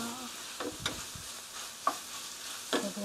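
A eggplant mixture is stirred in a frying pan, with a few soft scraping strokes and light sizzling spaced over a few seconds, close and fairly quiet.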